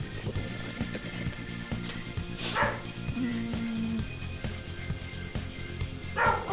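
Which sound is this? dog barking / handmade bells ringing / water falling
dog barking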